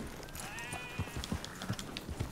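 Sheep bleating in Red Dead Redemption 2, a wavering nasal call early on followed by soft hoof-like thuds and faint farm ambience, fairly quiet and with no talking.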